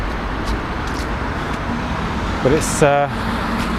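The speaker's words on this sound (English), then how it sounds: "it seems like a lot of traffic around today" Road traffic passes steadily around a street in Edgbaston, Birmingham, near the university campus, a broad car rumble with a brief squeal and a horn-like tone near the end, while someone speaks briefly over it.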